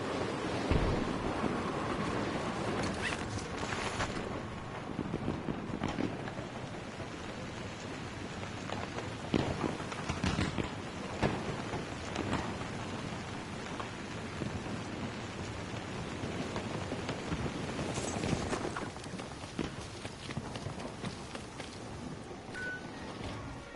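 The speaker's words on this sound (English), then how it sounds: "That storm is moving in." Steady storm ambience from the video game Battlefield 2042, with dense rain hiss and gusting wind running continuously at an even, fairly loud level. Occasional louder bursts rise out of the wash, and no voices are heard.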